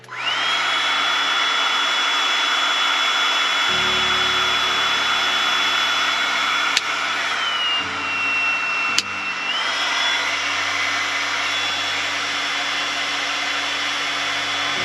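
A heat gun that seems faulty and barely gets hot blows with a loud, continuous airy roar and a high whine, which dips briefly in pitch midway, marked by a couple of sharp clicks.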